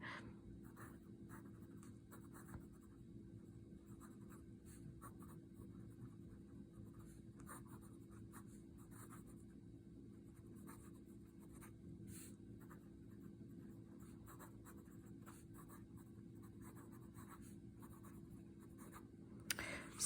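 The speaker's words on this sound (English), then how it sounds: "I'm gonna be quiet again so that I can write" A TWSBI GO fountain pen with a stainless steel nib scratches lightly across paper in a steady stream of faint, close strokes over a low background hum.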